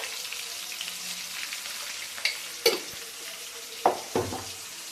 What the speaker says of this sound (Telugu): ఇప్పుడు ఈ చేపలు మగ్గేంత వరకు ఆయిల్లో ఫ్రై చేసుకోవాలి